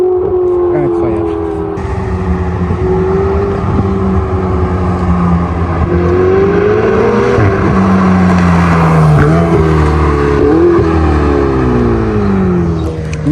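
A Ferrari 488 Spider's engine roars loud and close, holding a strong droning note that climbs and dips as the revs change, while a voice talks over it.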